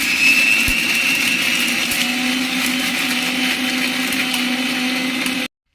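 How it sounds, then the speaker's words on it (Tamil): Mixer grinder whirring steadily as it blends spinach (ponnanganni keerai) thuvaiyal, a loud continuous motor drone with a bright high whine, running alone for about five seconds before stopping abruptly. "அப்படியே மிக்சியில போட்டு ஒரு அடி அடிச்சுட்டு அப்படியே துவையல போட்டு சாப்பாடு எப்படி இருக்குன்னு பார்ப்போம்"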